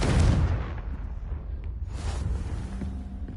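A booming magical explosion from the Confringo spell in Hogwarts Legacy hits loud at the start, then fades into a rumbling, crackling tail with a second swell of debris noise.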